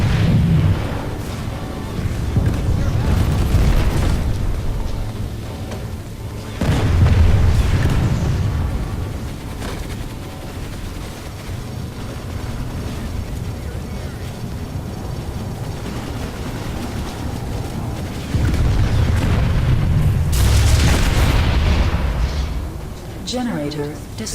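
A generator blowing up in the video game PlanetSide 2, heard as several deep, rumbling booms spread across a steady bed of battle noise, with the heaviest blasts near the start and toward the end.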